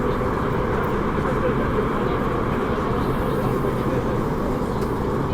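A train rolls along on a trip from Tuen Mun to South Horizons, with a steady, unbroken rumbling roar from inside the carriage throughout.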